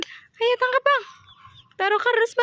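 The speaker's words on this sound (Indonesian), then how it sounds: "Wow, dapat ayam lagi teman-teman." A colorful chicken clucks briefly between bursts of nearby talking.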